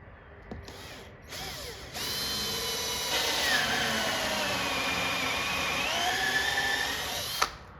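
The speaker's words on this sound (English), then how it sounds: "This will only drill through halfway, and then you gotta flip it over and go from the other side." Power drill boring through Bondo body filler and sheet metal on an arcade cabinet part, a rising whine that grinds steadily for several seconds, close and fairly loud, ending in a sharp snap.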